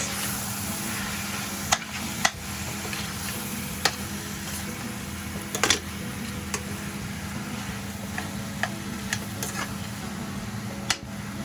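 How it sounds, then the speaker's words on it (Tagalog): Chicken sizzles in a pan during a stir-fry, a constant close frying hiss under a low hum, with occasional sharp clicks and taps from the utensil against the pan. "So just stir fry the chicken for about 3 minutes."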